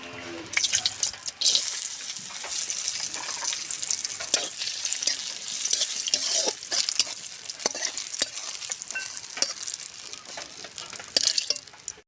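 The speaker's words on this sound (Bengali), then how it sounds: "কাজু আর কিশমিশটা ভেজে নেব" Cashews and raisins fry in hot oil for khichuri with a loud, continuous crackling sizzle, close up, and repeated scrapes and clinks of a spatula stirring them in the pan.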